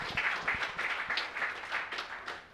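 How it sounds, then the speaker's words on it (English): Audience applause for a big band and its musicians, a steady wash of many hands clapping at moderate volume across the whole stretch. "give another round of applause for everyone up here"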